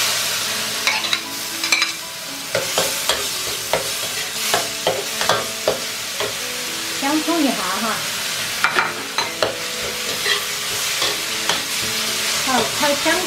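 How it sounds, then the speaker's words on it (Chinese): Tomatoes stir-fried in a wok with pickled vegetables, giving a steady sizzle broken by repeated scraping and clanking strokes of the spatula against the metal, close and loud with no talk. "炒西红柿。"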